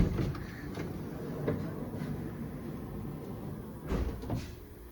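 Sliding side door of a 2019 Honda Odyssey EXL van being worked, with a rumbling roll and a couple of firm thuds near the end, close and alone without talk.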